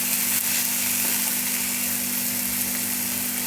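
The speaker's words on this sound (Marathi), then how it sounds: "तो 1-2 मिनटं फ्राय करून घ्यायचा आहे टॅमॅटो." Tomato frying in a pan for anda bhurji, a steady close hiss of sizzling with a constant low hum underneath, unbroken and without speech.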